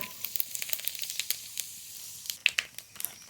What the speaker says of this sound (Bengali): এবার মশলা কষিয়ে নেব ফোড়ন করে নেব তেজপাতা গোটা দিয়ে